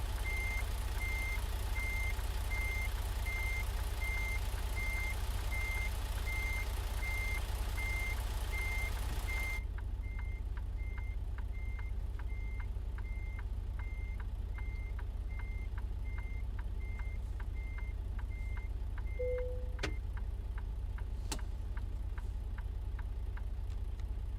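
A heavy truck reverses a logging trailer in American Truck Simulator, its backup alarm beeping steadily at an even pace over a constant low engine drone, with a faint click and brief tone near the end.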